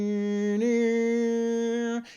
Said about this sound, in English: If you listen really close, you can hear an organ in the background.